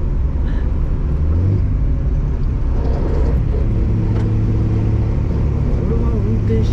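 Datsun 240Z with a 2.4-litre engine driving, a steady loud low engine rumble with some revving throughout, with people talking over it.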